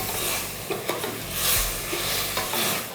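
About 150 grams of mixed vegetables are stirred in a cooking pot for biryani, producing close, loud scraping and shuffling with a soft sizzle underneath, in uneven strokes.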